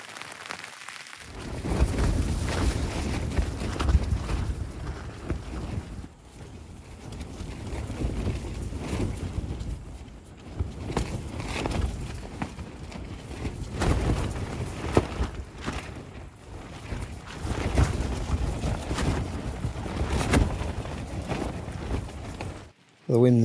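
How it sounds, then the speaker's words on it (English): Wind buffets a camping tent in gusty waves, the fabric rumbling and flapping in low, rising and falling surges over roughly twenty seconds, with some light rain-like patter mixed in and no clear talk. "The wind's picked up a little bit this morning."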